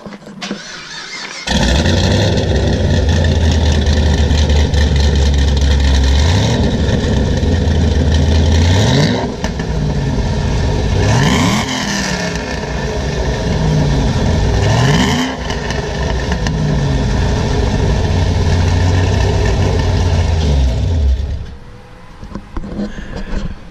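Chevrolet Camaro ZL1 making about 700 rear-wheel horsepower starts with a loud catch, then idles roughly and is blipped through several rising revs, heard close and loud with no talk over it.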